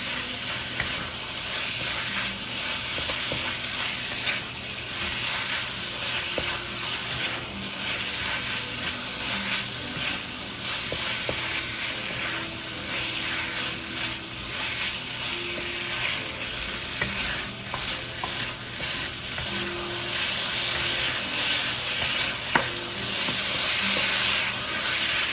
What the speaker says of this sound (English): Keep stir frying it.